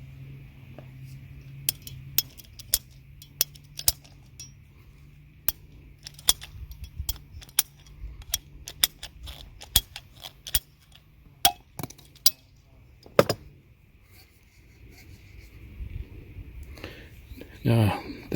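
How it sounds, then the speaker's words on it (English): PVC cutters on PVC pipe give a series of sharp, close clicks and snaps spread irregularly across the span, with faint mechanical handling between them. "I've got these PVC cutters. They do a really nice clean cut."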